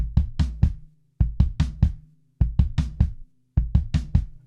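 Drum fill of 32nd-note triplets alternating bass drum and floor tom, played slowly and alone at close range: four even bursts of about five quick booming strokes, each burst followed by a short gap.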